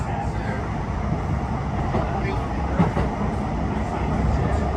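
A Blackpool tram runs along its track between Pleasure Beach and Norbreck Castle, giving a steady, loud onboard rumble and rattle with faint clicks from the wheels.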